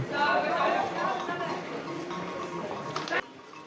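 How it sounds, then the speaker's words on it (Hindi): Horses setting off on the Vaishno Devi pilgrimage path, faint hoof clip-clop under steady nearby chatter and talking, with a brief sharper knock near the end. "तो अभी हम चलना शुरू कर चुके हैं घोड़े से।"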